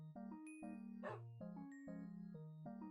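A Minecraft dog gives a few quick barks over a bright, stepping in-game melody, close and fairly quiet.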